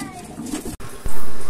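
Pet pigeons or doves give a short run of soft cooing, close and fairly loud, with a brief gap and then a fuller burst of sound at the end.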